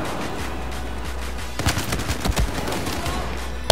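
Assault rifle fire in the Battlefield video game, with a rapid cluster of loud shots about midway, then a lone sharp report at the end, all over a steady low game hum.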